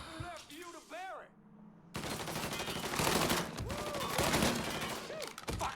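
Rapid bursts of gunfire from Mafia 3 crackle loud and close, a sustained volley of shots broken by brief shouted voices.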